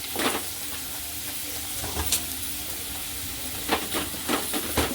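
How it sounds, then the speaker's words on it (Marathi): Onion sautéing in a pan for a bitter gourd dish, an ongoing sizzle and hiss broken by several sharp stirring scrapes and spoon knocks, close and moderately loud with no talk. "कांदा पण चांगला मऊ पडेपर्यंत आपण केल्यावर चांगला परतून घ्यायचा आहे"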